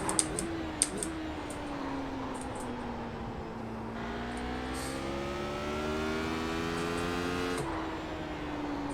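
Engine note of a Radical race car in iRacing under throttle. The smooth pitch climbs through the gears with an upshift partway through, staying steady and fairly loud.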